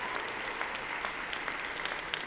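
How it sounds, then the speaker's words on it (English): Applause from a crowd, steady dense clapping with scattered sharper claps, moderately loud and sustained throughout with no talking over it. "Do my applause."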